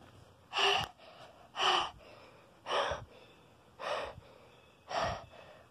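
A person pants heavily right beside the camera, five loud, rhythmic breaths about one second apart, with no talking.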